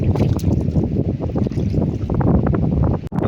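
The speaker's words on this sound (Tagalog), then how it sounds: "Malakas ng amihan." Strong northeast monsoon wind, the amihan, buffets the microphone in a steady broadband roar with gusty pulses from start to finish, mixed with choppy water sounds near a boat.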